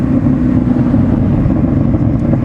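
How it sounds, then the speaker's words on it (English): A Ford Shelby GT350 engine drones steadily while driving, a loud, deep, continuous rumble with wind buffeting and no voices. "What a unique sounding incredible car."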